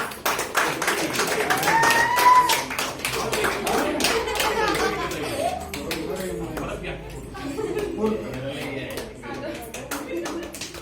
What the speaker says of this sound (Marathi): अभिनंदन. टाळ्या वाजवा.